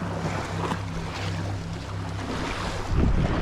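Sea waves washing onto a rocky Baltic Sea beach, a steady broadband wash with a stronger surge near the end, plus low wind rumble from the microphone.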